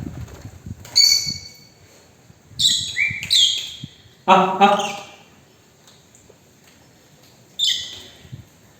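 Pet pigeons in a home pigeon house give a few short bursts of chirps and calls, fairly close, spaced out over quiet background with light rustling between them.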